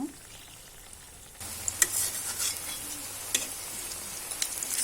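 Snack pieces sizzle again in hot oil for a second round of frying, a steady close crackle with sharper pops and spatters, growing busier after a quiet opening second.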